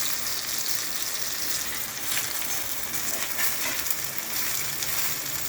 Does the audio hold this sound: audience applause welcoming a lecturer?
no